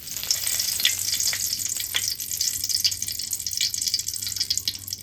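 Bay leaf dropped into hot oil in a pan for a village-style goat meat curry, giving a steady bright sizzle and crackle that runs the whole time with no talk.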